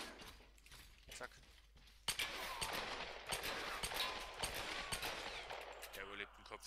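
Gunfire in the Tomb Raider video game, a dense run of sharp shots and bursts over steady background noise, with a voice talking in places.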